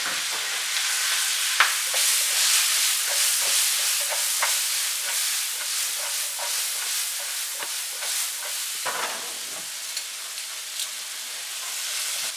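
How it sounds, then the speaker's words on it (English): Rough-cut sliced onion sizzling steadily in a hot pan for chicken carbonara, a dense continuous hiss with occasional louder crackles and stirring scrapes, close and alone. "So once this is done, I'm gonna add my onion into it. This is just rough cut sliced onion."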